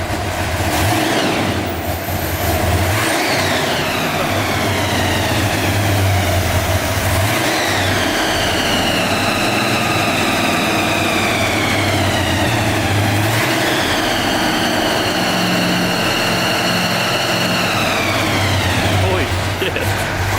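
A car engine revs hard and loud through an open electric exhaust cutout, rising and falling in several surging sweeps with a deep rumbling tone throughout.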